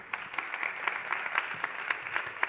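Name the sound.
applause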